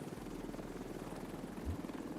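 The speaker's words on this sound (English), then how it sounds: "The chopper is way too late." A rescue helicopter in a shooter video game arrives with a steady, rapid rotor thump and a low engine drone, heard moderately loud throughout with no talk.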